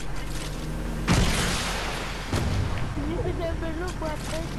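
Video game gunfire in a Fortnite match: a couple of heavy booming shots ring out over a steady background rumble, with speech-like game sounds drifting through the latter half.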